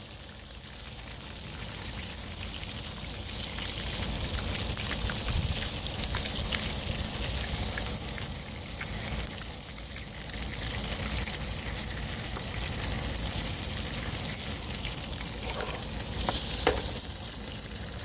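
Beef sizzles and spits steadily in oil on an induction cooktop used outdoors as a grill, a dense, continuous frying hiss that stays loud and close for the whole stretch, with a few brief crackles near the end.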